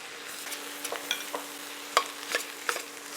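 Instant ramen stir fry being stirred in a pan, quiet sizzling with a handful of scraping and clinking utensil strokes at uneven intervals, close by and alone.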